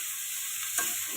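Shrimp and onions sautéing in a pan, a steady broadband sizzle with a brief stir or scrape near the end, close and moderately loud with no talking.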